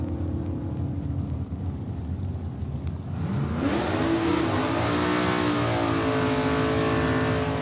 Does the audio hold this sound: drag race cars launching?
yes